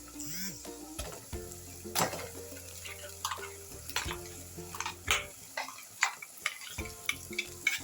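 A tomato, poppy seed and coconut paste fries in a pan for hotel-style cauliflower kurma, with a moderate sizzle and repeated spoon scrapes and clinks against the pan, close and fairly quiet.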